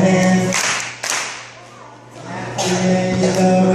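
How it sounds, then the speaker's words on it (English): Hands clap along to the children's song "If You're Happy and You Know It", several sharp claps in bursts over loud sung voices. "Happy and you know it, clap your hands."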